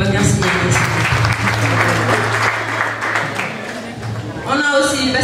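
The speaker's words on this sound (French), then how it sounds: "Des tonnerres d'applaudissements pour Babacar Signaté." Thunderous audience applause greets a panelist at an orientation day event in a hall, dense steady clapping filling the room for about four seconds before easing, with a voice breaking in near the end.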